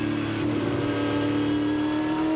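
A Ford V8 Supercar engine at Phillip Island, 2002 season, roars steadily under hard acceleration, a loud sustained near-field drone with strong low harmonics and no voices.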